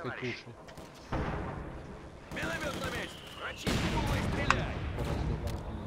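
Machine gun bursts and artillery booms rattle through a Company of Heroes 2 match, with a player talking over the steady battle noise.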